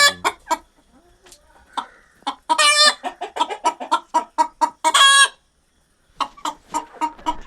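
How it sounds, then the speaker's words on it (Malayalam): Chickens clucking close by in a rapid series of short calls, with a couple of louder, drawn-out squawks mixed in, then a brief pause before more clucks. "ഇതാണ് നമ്മുടെ കോഴികളെന്ന് പറയുന്നത്"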